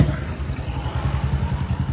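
A motorcycle engine chugs nearby with a steady, rapid thumping rhythm, idling loudly and continuously with no voices.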